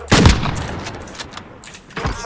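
Gunfire in the video game Warzone: a loud close burst of shots at the start, then faint scattered distant shots, with another sharp shot near the end.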